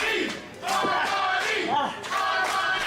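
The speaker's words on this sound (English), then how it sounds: "And the crowd solidly behind them now." A wrestling arena crowd cheers and chants in loud, swelling waves during a match, with rising shouts filling the hall.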